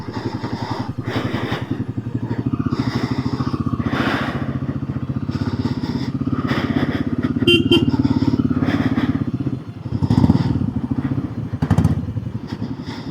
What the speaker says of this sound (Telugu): మనం బైక్ డ్రైవ్ చేస్తూ మాట్లాడుతున్నాం